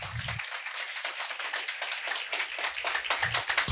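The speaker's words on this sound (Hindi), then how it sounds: "एक सुंदर ताली बजाएंगे" A church congregation claps together during worship, a dense, steady burst of many hands lasting a few seconds, with brief voice sounds at the very start and end.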